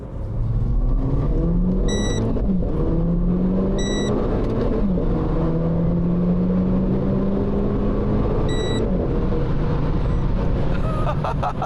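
A sports car's engine revs in race mode with gearshifts made on paddle shifters, its steady drone rising and falling in pitch through several sweeps, loud and close, with a few brief electronic beeps over it.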